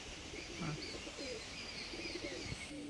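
Racing pigeons in a loft give soft, repeated cooing and a few chirps, low and fairly faint over a steady hiss of background noise.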